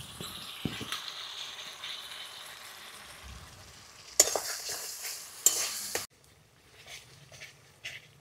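Spice paste, tomato, turmeric and meat masala frying in oil in a pan, a soft steady sizzle broken by louder bursts of stirring and scraping, then dropping to a quieter simmer.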